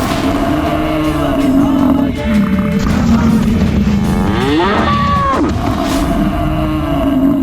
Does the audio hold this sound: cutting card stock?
no